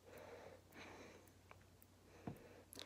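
A pet sniffs at a finger up close in a quiet room, giving soft, short nasal puffs in small bursts, faint and with no talking.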